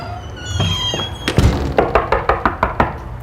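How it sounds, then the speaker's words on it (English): Knuckles rap on a door, first a few scattered knocks and then a run of about eight sharp, evenly spaced knocks, close and loud, with a faint cat-like sound early on. "Knocking on the door."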